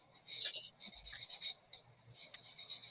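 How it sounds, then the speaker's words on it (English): A sanding stick rasps steadily against a small plastic model part to remove leftover nubs, giving close, soft, continuous scratching strokes. "I would get my sanding sticks"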